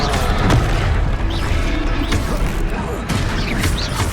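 A Confringo blast spell bursts in Hogwarts Legacy combat, a loud booming explosion with crackling impacts that sustains through the moment amid dense battle noise and occasional grunts.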